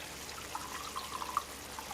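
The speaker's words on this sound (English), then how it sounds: "I'm going to add about 1/4 of water" Water poured into a pot of tomato sauce while cooking, heard as a faint, sparse series of small drips and trickles against a quiet background.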